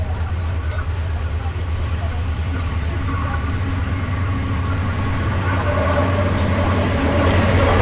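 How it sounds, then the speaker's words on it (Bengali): The Lalmoni Express rumbles past a halted train at a Bangladeshi crossing, a loud continuous low roar of wheels and carriages close by, steady throughout. "লালমনি এক্সপ্রেসের সাথে আমাদের ক্রসিং হচ্ছে"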